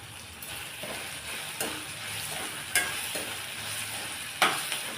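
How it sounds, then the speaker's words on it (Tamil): Chutney ingredients sauté in a pan with a continuous soft sizzle, broken by periodic scraping strokes of a spatula and a few louder knocks against the pan, with no speech. "பாருங்கள் இந்தளவுக்கு நல்லா வதக்கியாச்சு"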